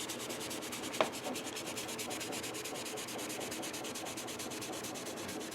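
Steady close rubbing of a cloth with polish across the glossy body of an Epiphone SG electric guitar, a continuous brushing friction with one sharper scuff near the start.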